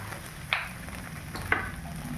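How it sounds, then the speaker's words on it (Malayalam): Tomato sauce and soy sauce sizzle in a hot pan for kothu chapati, a steady close fry with two sharp scraping clinks of a utensil. "ഗൈസ് അപ്പം നമ്മൾ എടുത്ത് വെച്ചിരുന്ന സോസ് കുറച്ച് ഒഴിച്ചു കൊടുക്കാം. Tomato sauce. അത് കഴിഞ്ഞിട്ട് സോയാ സോസ് കുറച്ച്."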